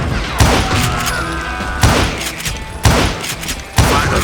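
Gunfire in the Call of Juarez Gunslinger video game: four sharp, booming shots spaced about a second apart, each with a ringing metallic tail over a low rumbling game backdrop.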